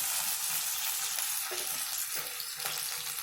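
Soy sauce hits a hot pan while making babycorn Manchurian, a steady close sizzle with a few louder hissing bursts and faint stirring scrapes, no voices.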